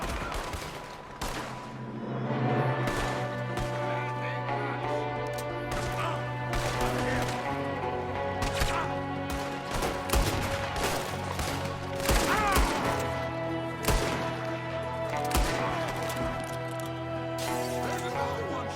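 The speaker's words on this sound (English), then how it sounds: "There's another one shooting from the window." Sustained gunfire in Red Dead Redemption 2, dense bursts of rifle and pistol shots over a steady background drone, with a voice speaking partway through.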